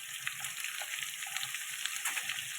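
Potato pieces frying in oil with a pinch of turmeric give a soft, steady sizzle and faint crackles, fairly quiet and close, with no talking.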